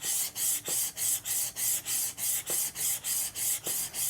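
A steel blade is drawn in rapid, even strokes across a dry diamond sharpening stone, giving a crisp rasping scrape repeated about a dozen times in a steady rhythm, close and alone.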